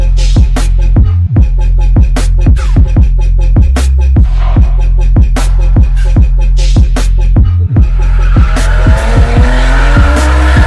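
A BMW drifting during a burnout session in Chojnice: a loud, close engine cuts out in rapid repeated rev bursts, then a sustained tire squeal rises over the roaring motor.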